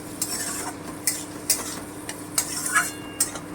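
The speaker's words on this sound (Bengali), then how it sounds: "আমি একটুখানি ভেজে নিচ্ছি" Chilli paste masala frying in a pan for an egg fritter curry, a steady sizzle with repeated sharp stirring scrapes of a spoon against the pan, close and moderately loud, no speech.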